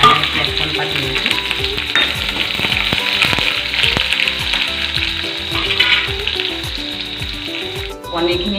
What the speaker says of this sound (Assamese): তেলখিনি গৰম হৈ গ'ল আৰু ইয়াত আমি পাঁচফোৰণ দিলোঁ আৰু তাৰপিছত মানে পিঁয়াজ অকণমান দিম